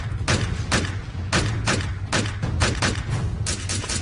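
Rapid bursts of gunfire in a staged church-service performance depicting a failed military raid, loud overlapping shots in uneven clusters filling the scene, close and forceful with no voices.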